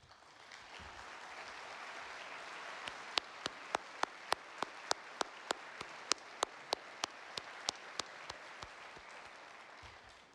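A luncheon audience giving a round of applause for foundation board members, broad steady clapping from a large room with a few sharp, close claps standing out, fading at the end.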